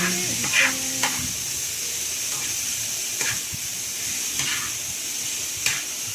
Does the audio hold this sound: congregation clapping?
no